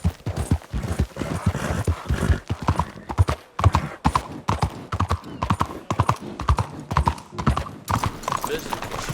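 Horse hooves clip-clop in a steady walking rhythm in the video game Red Dead Redemption 2, close and clear, with a voice talking gently over the footfalls.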